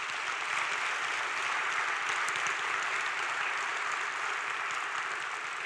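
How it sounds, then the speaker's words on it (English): Church congregation applauding its task force and search committee during a Sunday worship service, a steady, even wash of clapping from many hands, moderately distant, with no talk over it. "I'd like to give them a round of applause, please."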